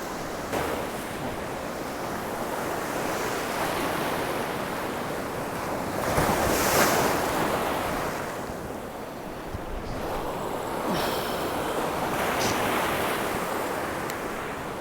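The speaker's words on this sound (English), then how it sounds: "We got a little bit of chop in the surf, but that's actually good." Choppy surf rolls in on a Florida beach, with steady crashing waves and a constant windy roar that swells and eases in broad surges, and no voices over it.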